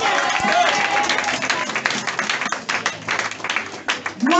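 Church congregation applauding at a Sunday service, a dense sustained wash of clapping that thins and becomes more scattered toward the end.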